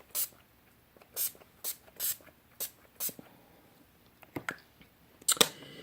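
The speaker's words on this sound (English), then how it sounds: "And finish up with setting spray." Several short hissing bursts of a makeup setting spray bottle misting, spaced irregularly with quiet gaps between, ending in a stronger, longer spray.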